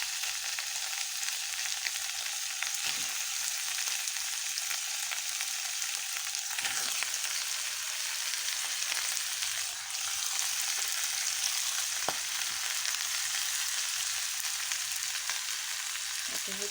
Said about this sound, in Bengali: একসাথে ভাজা ভাজা করব।